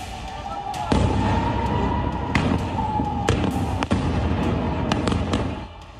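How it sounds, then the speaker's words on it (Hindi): Missile and drone strikes exploding over Tel Aviv during an Israel–Iran missile attack: a dense, sustained rumbling barrage with sharp cracks and booms recurring every second or so, loud and continuous throughout. "तेल अवीव में एक के बाद एक आसमान से मिसाइलें और ड्रोन से बारूदी बारिश हो रही है।"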